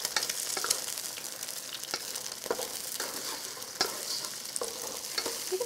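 Eggs are scrambled with garlic in a hot pan for pad see ew, a busy close sizzle broken by repeated spatula scrapes and taps in an uneven rhythm, with no talking.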